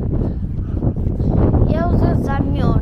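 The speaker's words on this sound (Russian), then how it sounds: "На улице так ветрено." Strong wind buffets the microphone outdoors at the Rock of Cashel in Ireland, a constant low rumble throughout, with a voice briefly audible near the end.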